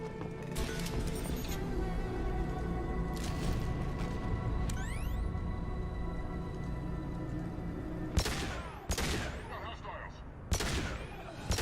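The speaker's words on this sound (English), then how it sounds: "Blue Suns and Vorcha shooting anything that moves" Gunfire from Blue Suns mercenaries and Vorcha in a video game: steady rumbling battle din with sharp shot bursts clustering near the end, loud and continuous with no talk over it.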